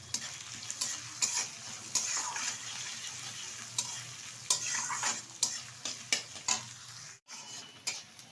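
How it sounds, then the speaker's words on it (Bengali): Onion frying in oil in a pan for a chicken chopper street-food recipe, a faint steady sizzle punctuated by repeated sharp scrapes and stirs of a spatula, with one brief dropout near the end. "এবার পেঁয়াজটা আমি ভেজে নেব।"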